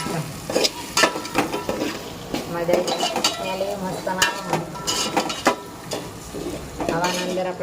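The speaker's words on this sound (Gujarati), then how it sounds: "આપણે સરસ મજાના કઢીમાં મસાલો બધું શેકાવા માંડીએ તો આવી રીતે શેકી દેવાનું" Masala spices being roasted in a pan for Gujarati kadhi, with a spoon stirring and scraping against the pan and a soft sizzle running throughout, close and steady, with some speech-like sounds mixed in.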